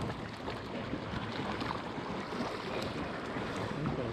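Wake from a passing boat slaps against a fishing boat on a river lake during a bass tournament, a steady close wash of water and hull splashes mixed with wind buffeting the microphone, with no talking.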